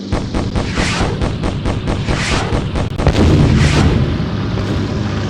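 Guns firing at enemy cruisers in the naval combat game Beyond Pearl Harbor: loud, rapid, repeated booming shots in quick succession, merging into a dense, continuous roar of gunfire.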